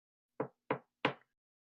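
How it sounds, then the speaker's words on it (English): Three sharp knocks on a door, evenly spaced and fairly close, each a short dull thud with nothing else around them. "you hear a knock on the door."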